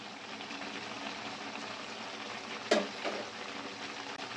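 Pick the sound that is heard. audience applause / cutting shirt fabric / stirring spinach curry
stirring spinach curry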